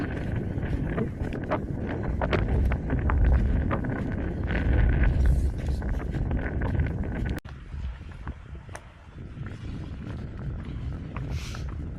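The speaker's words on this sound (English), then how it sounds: "Got to hold on to my hat, it's so bloody windy." Strong wind buffets the microphone in loud, roaring gusts, with knocking and rattling on a small boat off Tasmania's west coast, easing somewhat in the second half.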